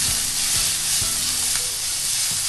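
Vegetables frying in oil in a pan, a steady bright sizzle with a few soft stirring knocks, close and continuous without talk.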